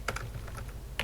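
Someone types a short command on a computer keyboard in a Linux terminal, a few quick, crisp keystrokes clustered at the start, then a lone final keypress, close and clear with no voice.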